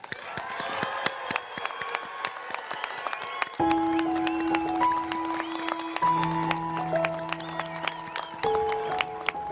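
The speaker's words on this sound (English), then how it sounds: "asking for one last rousing round of applause for our graduates" Crowd applause for graduates at a College of New Jersey humanities and social sciences commencement ceremony, a dense patter of clapping that carries steadily through, with sustained musical tones entering partway and continuing beneath it.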